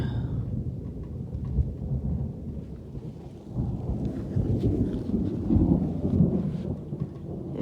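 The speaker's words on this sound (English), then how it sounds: "Yeah, the storm's coming pretty quick." An approaching thunderstorm rumbles with deep, rolling thunder under steady rain, swelling louder partway through, with no one speaking.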